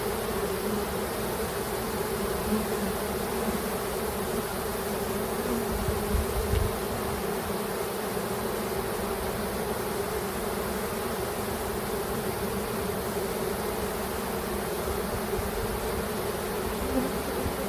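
A dense, steady drone of many honeybees buzzing continuously up close around a hive box as a colony is installed.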